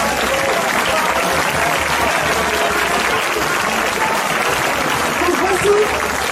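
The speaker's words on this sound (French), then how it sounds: "vous pouvez les applaudir" Sustained applause from a crowd at an outdoor protest rally against the COVID health pass in Nice, France, a dense steady clapping that fills the whole stretch, with voices mixed in.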